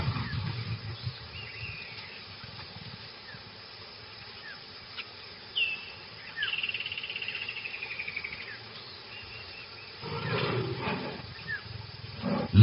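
A lion and lioness growl and roar while mating, giving low rumbling growls that build into a loud, harsh snarling burst near the end, set against a steady buzz of insects in the wild.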